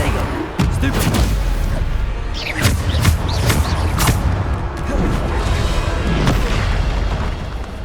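Bombarda spell blasts in the video game Hogwarts Legacy, a run of loud booming explosions with sharp cracks, several bursts over dense combat noise with faint voices mixed in.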